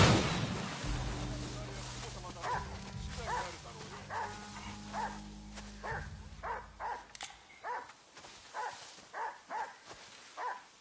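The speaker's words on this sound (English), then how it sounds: "Oh, bloody dogs." Several dogs bark in Ghost of Yotei, the barks coming in a rapid, uneven series that grows sharper and more rhythmic, close by, with a rumbling background at first.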